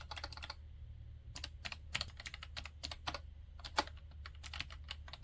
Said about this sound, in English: they have the best clicking I have ever heard a tablet have